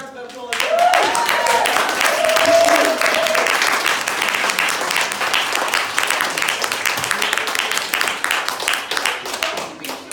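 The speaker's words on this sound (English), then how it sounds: "Another round of applause." A room full of people in Liverpool gives a sustained round of applause, dense clapping that starts abruptly and carries on steadily, with a few voices and a brief whistle-like cry early on.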